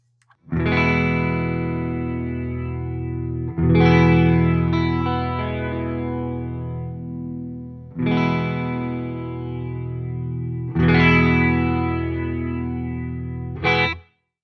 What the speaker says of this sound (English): you can achieve some great automatic double tracking sounds